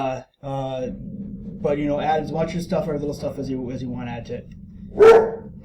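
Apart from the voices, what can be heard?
dog barking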